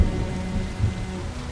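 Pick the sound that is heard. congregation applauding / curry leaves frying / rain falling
rain falling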